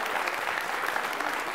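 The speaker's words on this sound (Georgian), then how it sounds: "აპლოდისმენტები." A studio audience at a quiz show claps in a dense, even burst that holds at a steady, fairly loud level throughout, with no voice over it.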